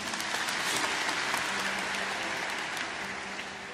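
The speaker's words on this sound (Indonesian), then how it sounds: "Kasih tepuk tangan untuk Tuhan Yesus." A church congregation applauds steadily and fairly loudly for several seconds, a dense wash of clapping that eases slightly toward the end, with no talking.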